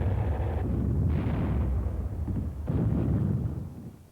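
Heavy booming blasts of a recoilless rifle firing in combat on Okinawa in 1945, dense rumbling explosions overlapping in a continuous roar of battle.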